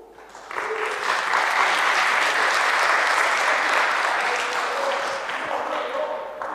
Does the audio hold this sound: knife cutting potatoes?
no